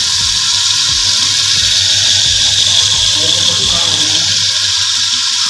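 A madani hand churner whips cream into homemade butter, giving a steady loud hissing, sloshing wash with rhythmic low thumps from the churning throughout.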